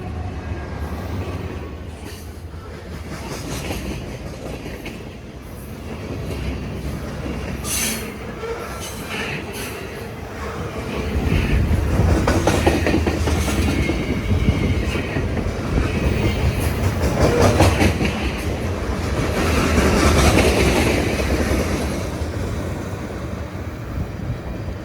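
Freight train 928, led by a BNSF locomotive, rolls through a crossing at Port Kent with a loud rumble of cars, rhythmic wheel clatter and squealing wheels that grow stronger midway and continue, no talking.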